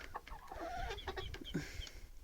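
Several chickens cluck and chatter close by in quick, irregular bursts, with a few higher squawks mixed in and no voices.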